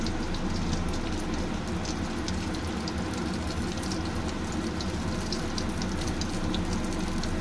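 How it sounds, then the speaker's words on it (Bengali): Cumin seeds sizzle in a little hot oil, a steady, even, rain-like crackling hiss that continues unbroken at moderate loudness throughout. "খালি জিরে ফোড়ন দিলাম।"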